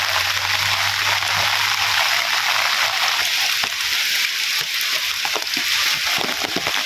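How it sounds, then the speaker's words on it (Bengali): Heavy rain pours down in a village, a steady dense hiss that fills the whole stretch with a few sharper drips and splashes near the end. "এই বৃষ্টি প্রচন্ড বেগে বৃষ্টি হইতেছে"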